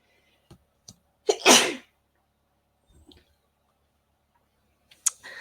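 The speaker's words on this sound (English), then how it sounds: "that's why I didn't stop the camera for the sneeze" One sharp, close sneeze bursts out near the start, framed by small clicks and faint mouth noises in an otherwise quiet room.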